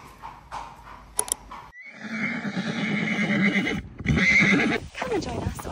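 A horse at the stables gives a long, loud whinny that rises and wavers for several seconds, with a second neigh following, after a few brief knocks and light hoof sounds.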